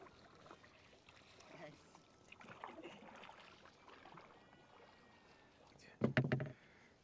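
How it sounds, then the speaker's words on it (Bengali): Small wooden dinghy rowing along a narrow river in Meghalaya, faint water and oar sounds under a low background with people talking, ending in a brief louder splash-like burst. "এইরকম ছোট নদী, ছোট নৌকায় দারুণ লাগছে।"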